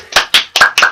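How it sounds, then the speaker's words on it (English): Four quick, loud hand claps land in an even rhythm, sharp and close, with nothing else around them. "Everybody clap your hands!"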